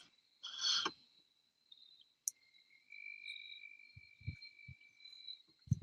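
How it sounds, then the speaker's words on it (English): Crickets chirp at night in thin, steady high trills that come and go, with a short louder burst at the start and a few soft low thumps later. "Crickets, you can fucking hear the crickets."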